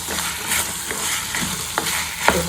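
Fresh green beans tossed into hot oil in a frying pan for a lima bean kurma, giving a steady sizzle with several distinct spoon clacks and scrapes against the pan; close, moderately loud, no voices.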